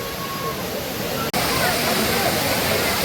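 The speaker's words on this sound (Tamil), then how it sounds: "குற்றால அருவியிலே குளித்து குளித்து குளித்துக் கொண்டிருக்கின்றோம்" Courtallam waterfall roars with people bathing beneath it, a loud, unbroken broadband rush of falling water heard up close, briefly cut by a split-second dropout before the torrent resumes, with faint crowd voices mixed into the spray.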